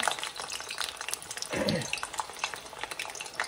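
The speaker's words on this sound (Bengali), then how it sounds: "এখানে আমি একটু নারিকেলের পিঠা বানাবো, সেই জন্য তেল গরম দিয়ে দিছি।" Coconut cakes sizzle steadily in hot oil with a constant crackling hiss, close up, and a brief low clatter partway through.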